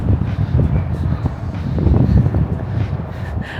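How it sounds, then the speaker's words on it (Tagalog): Loud, blustery wind buffets the microphone in a constant low roar, with faint voices underneath, outdoors in Odaiba, Japan. "Sobrang lakas ng hangin."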